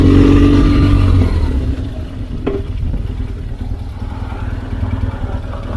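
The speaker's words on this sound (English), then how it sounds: "He's got an aftermarket pump. Oh, listen to that. Got a little rumble going." A motorcycle fitted with an aftermarket pump idles with a low, steady engine rumble close by, louder at first and then settling slightly, with a brief metallic clatter midway.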